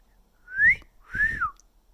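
A person whistles to a parrot on Hilton Head Island, South Carolina, giving two clear rising-falling whistled notes close to the microphone, each about half a second long, with no other sound.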